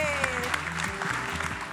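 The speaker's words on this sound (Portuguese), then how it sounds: "Salva de palmas pra ele, gente!" At a Brazilian cheese competition, a crowd claps for a contestant amid music and cheering, the clapping steady but partly masked by melodic tones and voices.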